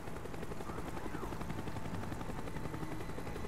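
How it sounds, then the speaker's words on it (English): Helicopter circling in the video game Call of Duty Black Ops, a steady loud rotor drone filling the whole clip, with busy battle noise that may include gunfire mixed in. "The chopper is coming around again."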